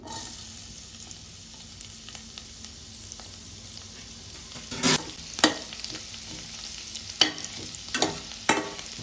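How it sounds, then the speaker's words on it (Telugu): Chopped onions fry in an equal mix of oil and ghee with a gentle, steady sizzle, broken in the second half by several sharp scrapes of a stirring spoon. "కట్ చేసుకున్న ఆనియన్స్ వేసేయాలి."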